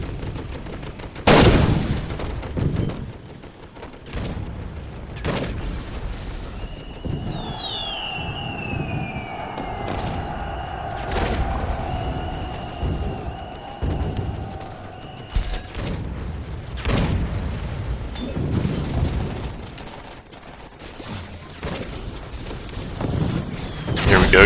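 Gunfire and explosions in the video game Toy Soldiers, with sharp loud blasts at irregular intervals and rattling machine-gun bursts between them, plus whistling mechanical sounds in the middle, and hardly any talk.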